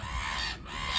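Birds squawking near a boat, a faint, harsh chorus of clucking, goose-like calls that runs on steadily, heard alone with no talking.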